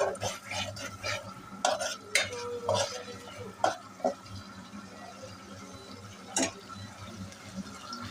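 Green chilies are stirred into a frying spice paste for aloo dum, with quiet sizzling under repeated sharp scrapes and clinks of a spoon against the pan.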